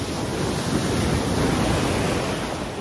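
Ocean waves at Haeundae beach in Busan, a steady loud wash of surf with wind buffeting the microphone, continuous and close, with no talking.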